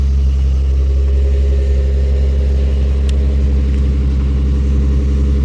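A 2006 Lexus GS300 engine warms up at a steady, loud idle with a deep, even rumble and a faint rhythmic pulsing, running unbroken until it cuts off abruptly at the very end.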